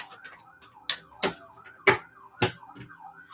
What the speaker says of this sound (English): As the sirens go past my house